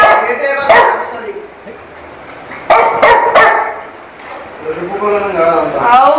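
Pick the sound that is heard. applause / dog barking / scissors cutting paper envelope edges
dog barking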